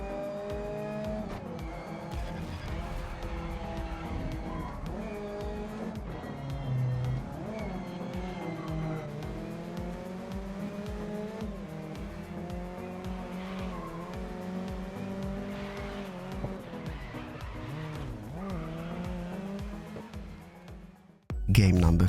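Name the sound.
racing cars and tire squeals in a mobile racing video game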